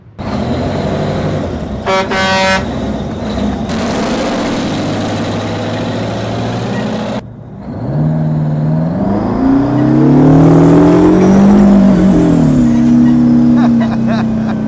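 A giant 8-ton truck with a 1,500 cubic inch, 2,200 hp engine idles loudly and steadily, with a horn toot early on, then a brief drop before the engine revs and rises in pitch and holds a heavy roar.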